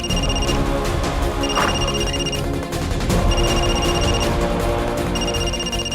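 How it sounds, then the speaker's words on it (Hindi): A mobile phone rings in a Hindi TV drama scene, its electronic tone pulsing in regular repeated bursts over a busy, loud background. "रिंग हो रहा है।"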